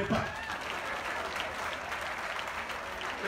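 An audience at a birthday celebration for Laurent Gbagbo breaks into continuous, dense clapping that holds steady for a few seconds, with voices mixed faintly into the crowd noise.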